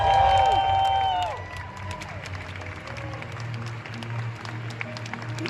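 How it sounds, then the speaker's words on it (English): A crowd at a Pokémon video game championship applauds and cheers for a junior champion, dense clapping with shouts and whoops rising as a loud electronic musical sting cuts off near the start. "a round of applause and congratulations to our video game junior champion"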